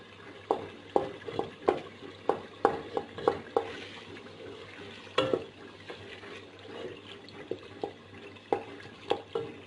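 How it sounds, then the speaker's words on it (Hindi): Mashed boiled chickpeas being stirred and roasted in a pan for Lahori chanay, with repeated spoon scrapes and soft taps over a faint, steady sizzle, close and fairly quiet. "बहुत ही अच्छे तरीके से मैं इसको मिक्स करती हूँ और 2 मिनट इसे भूनते हैं ऐसे ही"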